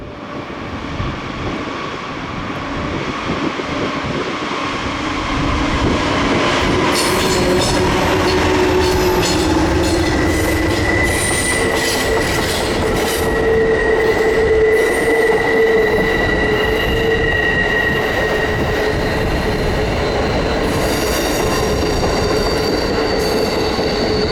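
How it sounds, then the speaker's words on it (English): An Amtrak passenger train rumbles past at close range on a mountain line, steady and loud, with wheel squeal and high metallic ringing rising over the roar as the cars roll by. "Train 42 down towards the next station stop in Altoona."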